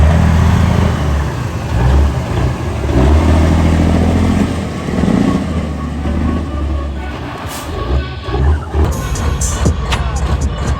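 Big rig truck engines rumble and rev at a racing event, a heavy, continuous low drone with surging swells and crowd noise mixed in, loud and near throughout.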